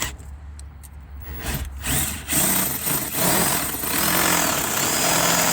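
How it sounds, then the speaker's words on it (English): A power drill whirs up after a quiet start and runs steadily and loudly, its pitch wavering as a large bit cuts a new push-button switch hole in a Ford Escape. "big boy drill for the new switch hole"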